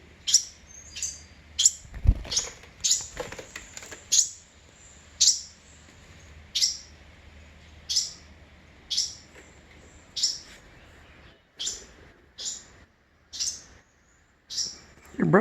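Baby birds chirp in a series of sharp, high, close peeps, about a dozen spaced calls over quiet background with a few soft knocks.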